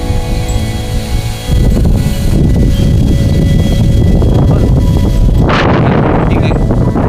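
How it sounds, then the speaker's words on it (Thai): Strong storm wind sweeps across an outdoor cattle pen, a loud continuous roaring buffet that intensifies after the first second and stays heavy and gusty throughout. "โอ้เพื่อนพายุลมแรงมากเลย"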